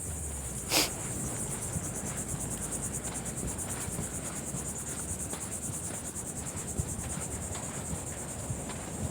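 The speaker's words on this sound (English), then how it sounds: "Just love listening to the crickets" Crickets chirp steadily among sandy beach dunes in Palm Coast, Florida, a constant high, even trill lasting throughout, with faint breeze and distant surf underneath and no talking.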